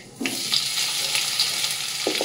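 Bitter gourd and potato go into a wok of hot oil with dried chilli, black mustard and fenugreek, setting off a sudden close hiss that settles into a steady sizzle, punctuated by soft utensil knocks.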